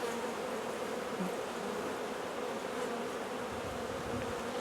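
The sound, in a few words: honeybees buzzing on a hive frame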